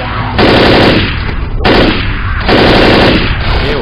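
Bursts of rapid machine gun fire in the zombie shooter Left 4 Dead, three loud sustained volleys separated by brief pauses, close and dense with no talk.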